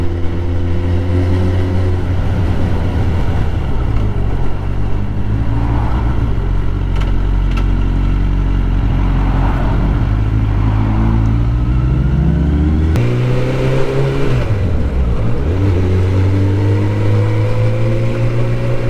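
A Suzuki cruiser motorcycle engine drones loud and close throughout, its pitch dipping and rising as the bike flicks through corners, with no talking.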